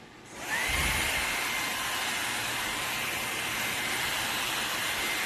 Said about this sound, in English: You want to vacuum?